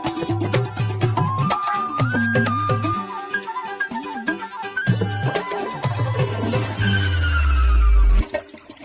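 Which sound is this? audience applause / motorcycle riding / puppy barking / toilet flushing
toilet flushing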